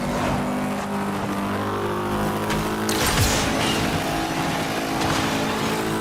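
A Class A race car accelerates hard in the racing game Asphalt Legends Unite. The engine roars loud, close and continuous, with no voices over it.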